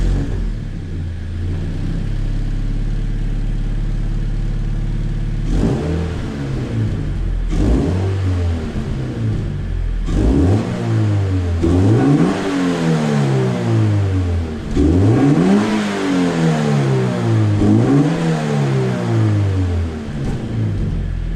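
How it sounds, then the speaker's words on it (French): A Toyota GT86 with its stock exhaust idles, then is revved repeatedly in quick blips, the engine note climbing and falling in several sharp sweeps, loud and close with no talking. "Je vais mettre en marche la bagnole. Comme ça, on va entendre le bruit avec la ligne d'origine."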